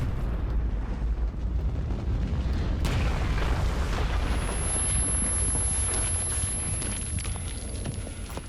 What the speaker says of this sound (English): that explosion was literally just inches from my face